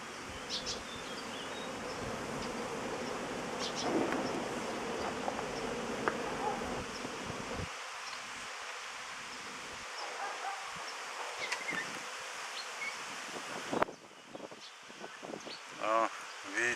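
Steady insect buzzing fills the air outdoors at an apiary after rain, honeybees humming around the hives continuously, with faint rustling and a few distant sounds; the buzz thins out near the end.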